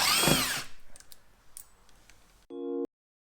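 A power driver spins out T15 Torx screws from a carbon flash front splitter on a 2022 Corvette C8, a loud whirring burst up front, then faint clicks and handling noise, ending in a short high-pitched buzz.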